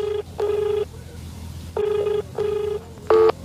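A phone number is dialed on a telephone keypad. Five clear, steady tone beeps sound in an uneven rhythm with short gaps between them, over a low background hum and without speech.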